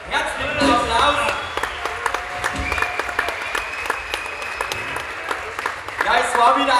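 Crowd applause at a Pentecost festival in Kötzting, honouring a boy who brewed beer, with clapping running under music or voices, sharp hand claps standing out near the start and swelling again at the close.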